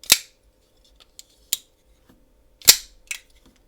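Folding washer knife flicked open and snapped shut, a few sharp isolated metallic clicks and snaps separated by silence, close and loud.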